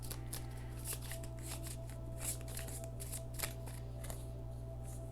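Tarot cards being shuffled and drawn, a steady run of crisp riffling flicks and soft card slaps at close range over a constant low hum, with no talking.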